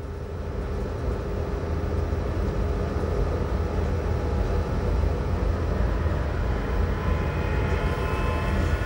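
Inside a tunnel, the Glacier Express runs on in a steady, loud low rumble with rolling wheel noise and a faint high whine, sustained unbroken throughout with no voices.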